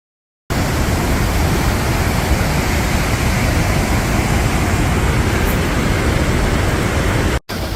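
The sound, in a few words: waterfall in Icelandic valley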